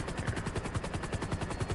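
Helicopter flying over a casino rooftop and arena in Grand Theft Auto V, with a steady low rotor thump pulsing evenly throughout.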